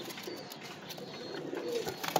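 Soft cooing from a mated pair of pigeons, low and murmuring, sits faintly within quiet background noise.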